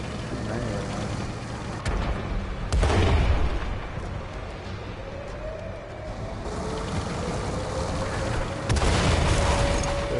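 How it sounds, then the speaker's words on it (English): Artillery shells burst during a World of Tanks match, a few heavy booms landing among rumbling tank engines and mechanical noise, with a clear blast near the start and another toward the end. "There's artillery."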